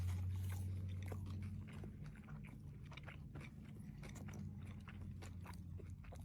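Close biting and chewing of a Moroccan filled snack stuffed with salad, meat, onions, olives and rice, soft crunches and mouth noises spread over several seconds above a low steady hum.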